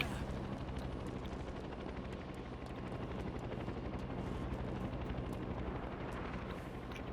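Helicopter rotor thrum in the video game inFAMOUS Second Son, a steady dense drone holding loud and constant throughout, with a rapid pulsing texture and scattered sharp crackles like gunfire mixed in.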